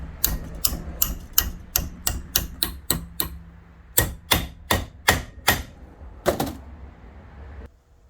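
Metal bracket clamped on a ledge being bent, heard as a series of crisp metallic taps and knocks, about a dozen in quick succession, a pause, then several more spaced strikes, close and fairly quiet with no talk.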